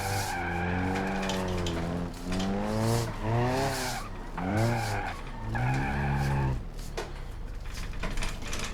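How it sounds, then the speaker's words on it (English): A car engine in the BeamNG.Drive driving game revs up and down in repeated rising and falling sweeps, loud and continuous, with tire noise underneath as the car drifts. "Just listen to the engine and it's like an auditory response to how much RPMs you're giving it"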